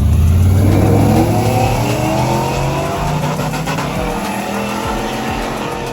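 A drag-racing truck's engine revs hard on a pass at the strip, a loud, sustained mechanical roar that stays up close and strong, easing slightly toward the end.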